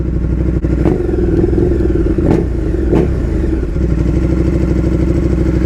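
A tall, dirt-bike-like motorcycle with a fly-by-wire throttle revs and runs loudly up close, its engine note rising and falling with a few sharp clattering knocks.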